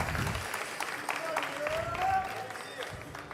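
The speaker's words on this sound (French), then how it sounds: "un tournoi d'applaudissements pour Neil, s'il vous plaît, madame et messieurs." Brief scattered applause from a small audience at a French coffee and spirits championship, light uneven clapping mixed with faint background chatter and clinking sounds.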